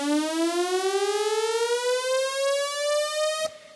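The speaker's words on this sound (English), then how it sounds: "we've got saw again. And so we'll get that kind of saw sound." Two detuned sawtooth synth oscillators play a single bright, buzzy sustained tone that glides slowly upward in pitch with a slight beating shimmer, then cuts off abruptly near the end.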